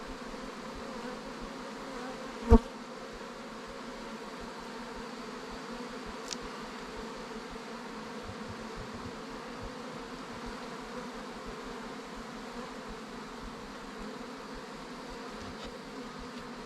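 Honey bees buzzing around hives in a bee yard during July, a steady low drone of many insects close by, with no voices, and one sharp knock early on breaking the hum.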